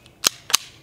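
Two sharp suppressed pistol shots from a Beretta 21A Bobcat .22LR fitted with a silencer on a threaded barrel, a quarter second apart, each a crisp snappy crack with a short tail, fired outdoors with no talk.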